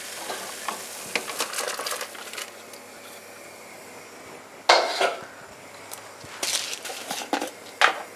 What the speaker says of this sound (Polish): Ziemniaki pokrojone idealnej grubości wrzucam do wrzątku.